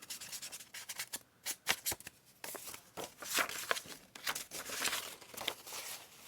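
Close, quiet bursts of rubbing and scuffing as vintage writing paper is distressed for a junk journal, coming in uneven strokes with short pauses between them.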